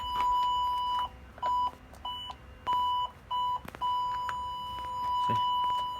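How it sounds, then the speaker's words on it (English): A Hawk aftermarket reverse parking sensor kit fitted to a Fiat 500 beeps in a clear, close, high-pitched tone, with a run of short bleeps in an uneven pattern giving way to a longer continuous tone, with no one speaking. "put it into reverse, it gives you the beep."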